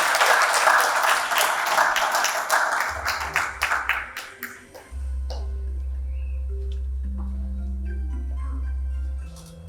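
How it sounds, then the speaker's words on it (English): An audience in Yogyakarta applauds a speaker at a talk on social business, loud dense clapping that thins into scattered claps, then a steady low hum takes over. "let's give a round of applause to Ibu Veronica Colondam."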